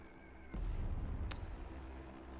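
Artillery fire in the WW2 turn-based strategy game Total Tank Generals: a heavy low boom opens into a sustained rumbling barrage, with a sharp crack partway through, loud and alone.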